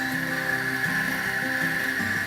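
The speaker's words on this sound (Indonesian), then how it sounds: "kopi kita giling hingga menjadi bubuk" A coffee grinder grinds coffee beans into powder in a coffee shop, a steady close whirring mechanical drone with a rattling, ratchet-like texture that runs continuously without speech.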